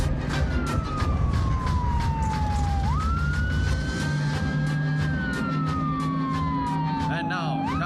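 A wailing siren rising and falling on a Benteng 01 class patrol boat approaching the main stage at a maritime exhibition, loud and continuous over crowd and engine noise, with a voice announcing over it.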